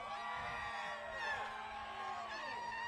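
A crowd at the River City Speedway race cheers and whoops in a steady, distant wash of voices, continuous and fairly faint with a slight swell midway.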